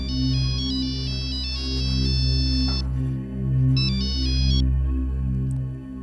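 A phone ringtone plays a repeating electronic melody, loud and close, with a brief pause near the middle before the tune resumes; no one speaks.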